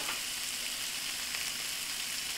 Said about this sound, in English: And it's just going to be like a saute.